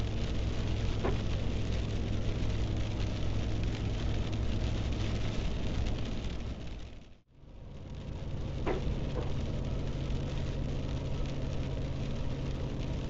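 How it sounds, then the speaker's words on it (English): Steady rain drumming on a car during a drive near Kingman, Arizona, on Interstate 11 road construction, a constant broadband hiss over low engine and road rumble, briefly dropping out for a moment midway, with no talking. "Wasn't supposed to rain yet."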